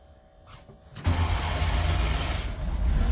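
A small two-stroke car engine cranks briefly and then fires up, settling into a loud, close, steady buzzing idle after a quiet start with a few faint clicks.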